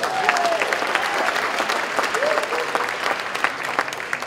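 Audience applause at a political speech event, a dense, sustained clapping from a large crowd, loud and continuous with a few whistles rising above it.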